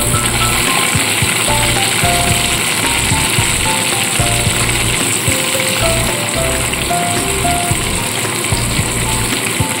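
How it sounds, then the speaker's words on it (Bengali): Chopped onions frying in hot oil for a small-shrimp dish, giving a steady, loud sizzle with bubbling crackle that runs continuously without pause. "পেঁয়াজটা হালকাভাবে একটু ভেজে নেব"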